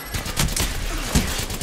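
Gunfire in the Apex Legends video game, a few sharp shots cracking over a continuous noisy bed, loud and close, with little speech.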